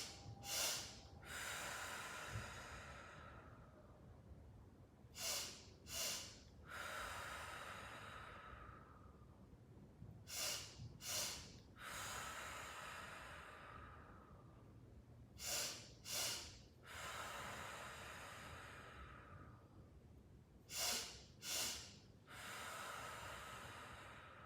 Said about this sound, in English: 2 quick inhales, 1 long exhale.